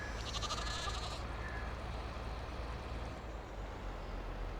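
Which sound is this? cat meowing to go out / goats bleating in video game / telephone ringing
goats bleating in video game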